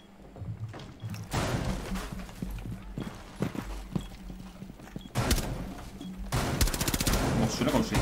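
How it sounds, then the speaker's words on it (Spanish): Gunfire in Rainbow Six Siege, rapid bursts of shots crackling through the match in loud clustered volleys, with a heavy barrage near the end and game sounds between. "Mucho tiroteo, ¿no?"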